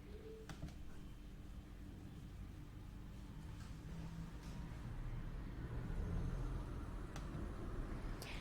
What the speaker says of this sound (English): You are driving.